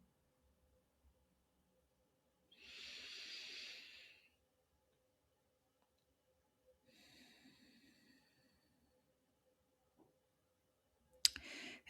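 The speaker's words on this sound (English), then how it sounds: "connect with your breathing, inhaling through the nose and exhaling through the mouth" Slow, deliberate breaths with a steady inhale through the nose and an exhale through the mouth, each a soft, close airy hiss separated by quiet pauses, alone with no talking.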